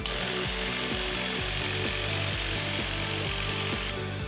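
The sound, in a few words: Viper Mini DTG pretreatment machine spraying a shirt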